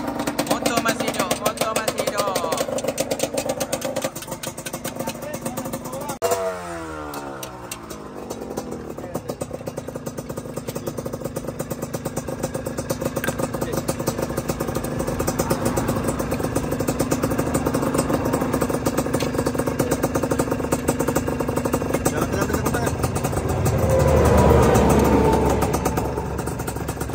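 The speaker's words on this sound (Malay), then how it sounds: "Motor masih hidup." A motorcycle engine keeps running, giving a steady rattling drone with clattering mechanical noise throughout and a brief rise in loudness near the end.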